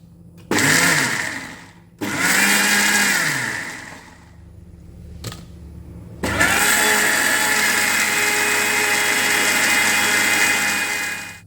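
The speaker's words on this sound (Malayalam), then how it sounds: "അതിലേക്ക് മഞ്ഞൾപ്പൊടി, 1/2 ടീസ്പൂൺ ജീരകം, കുറച്ച് വെള്ളം ഒഴിച്ച് നമുക്ക് അരച്ചെടുക്കാം." A kitchen mixer grinder whirs through a paste of coconut, turmeric and cumin with a little water, running in three loud bursts, the last one long and steady, with short pauses between them.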